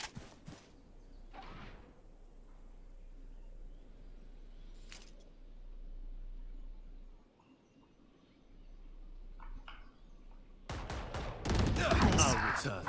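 In the video game Valorant, a rapid burst of gunfire sprays into a wall, loud and dense, after a quiet stretch with a few isolated clicks and shots and some talking.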